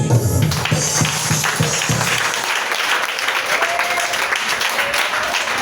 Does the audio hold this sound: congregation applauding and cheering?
yes